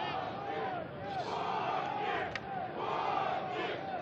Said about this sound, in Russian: Слышен клич «Водник, водник».